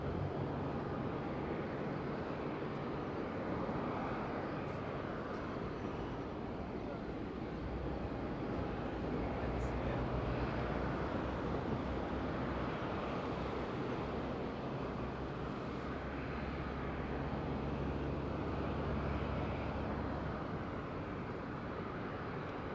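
A Wizz Air airliner comes in to land at Madeira Island Airport with a steady, broad, distant roar that holds evenly throughout under wind, with no talk.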